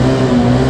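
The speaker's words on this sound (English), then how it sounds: "Little baby rev bombs." A Suzuki GZ250 cruiser motorcycle's engine gives a short rev bomb, a brief, steady, loud burst of engine tone heard up close.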